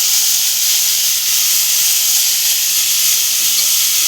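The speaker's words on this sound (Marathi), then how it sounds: "जी भाजी धुवून घेतलेली ती सर्व टाकून घेऊया." Washed tondli (ivy gourd) pieces hit a hot pan of masala, setting off a loud, continuous steamy hiss and sizzle that holds steady throughout, with no voices.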